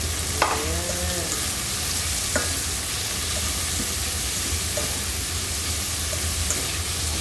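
Pieces of chicken breast fry in a pan and are stirred, giving a loud, steady hissing sizzle with a few scraping knocks from the utensil.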